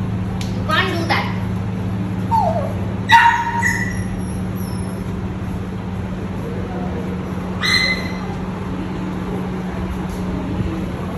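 Dogs of mixed breeds, among them a Saint Bernard, bark and yip in a few short bursts over a constant low hum, with quieter gaps between the outbursts.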